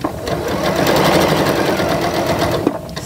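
A sewing machine stitches a quilt seam with a loud, close, fast and even mechanical whirring hum that runs without a break and without talk.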